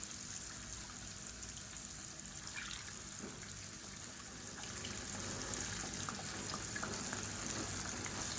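Water runs and swishes as a mixer jar of tomato chutney is rinsed in a home kitchen, a soft continuous splashing trickle that grows slightly louder toward the end, with no talking.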